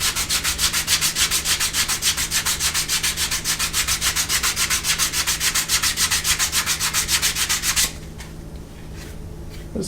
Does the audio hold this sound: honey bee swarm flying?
no